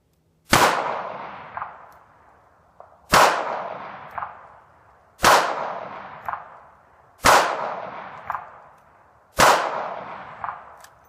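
A Ruger SP101 .357 Magnum revolver fires five loud, sharp shots outdoors at evenly spaced intervals about two seconds apart, each crack trailing off in a short echo.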